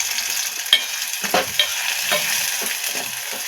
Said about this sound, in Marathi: आता यामध्ये आपण जे उभ्या चिरून मिरच्या घेतल्या होत्या त्या टाकून देऊया।